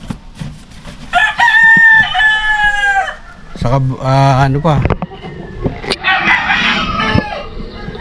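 Roosters at a gamefowl breeder's farm crow loudly and close by, several overlapping long calls one after another, with hens clucking and people talking over them.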